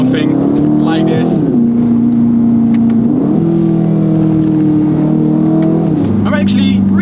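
A 2025 Aston Martin Vantage engine hums steadily from inside the cabin while driving, its low drone shifting pitch up and down with the throttle, loud and continuous throughout.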